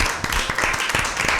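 Audience at an Easter Bible quiz clapping for a team's correct answer, a steady patter of hand claps over about a second and a half with no talk.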